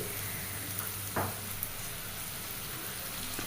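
Ginger garlic paste frying in a pan for chicken curry, a steady, even sizzle that runs the whole time at moderate loudness, with one brief scrape partway through.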